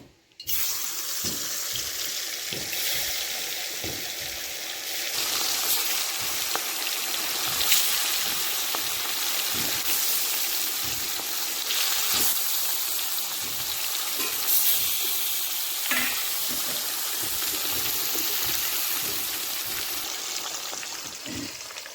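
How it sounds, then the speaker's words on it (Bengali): Rupchanda pomfret frying in very hot oil in a kadai makes a continuous, loud, close sizzle like rushing water, with faint spatters and scrapes breaking through the steady hiss. "এখন মাছগুলো ভেজে নিচ্ছি।"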